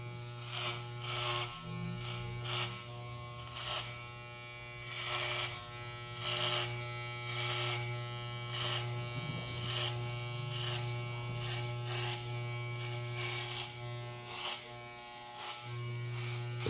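Electric hair clippers with a number 3 guard buzz steadily while cutting a client's hair for a fade haircut, a close, continuous hum with faint rhythmic pulses from strokes through the hair.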